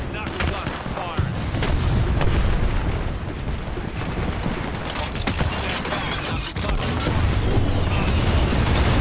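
Grenade blast in Apex Legends amid a dense, continuous firefight, with booms and gunfire layered under constant loud battle noise and voices talking throughout.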